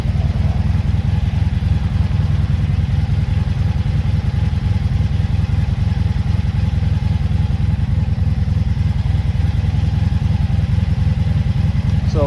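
A 1983 Honda Magna V45 VF750C carbureted V4 motorcycle idling while warming up, a loud, close, steady low-pitched engine rumble with a continuous mechanical patter throughout, with no talking.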